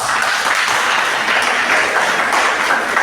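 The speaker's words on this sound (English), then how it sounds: "Once again, a big round of applause for yourself." Loud, dense audience clapping fills a personality development and life skills training session, a steady close wash of many hands without pause.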